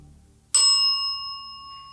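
A single bell struck once during a nighttime ghost hunt inside the abandoned Pennhurst Asylum rings out sharply and clearly, its bright metallic tone lingering and slowly fading over more than a second, with no voices.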